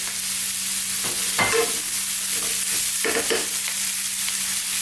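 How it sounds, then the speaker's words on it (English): Potatoes added to a frying pan of vegetables, including hard carrots, for a vegan bean chili stew, giving a steady close sizzle broken by a few scraping stirs of a utensil against the pan, with no talk. "Let's now go in with those potatoes."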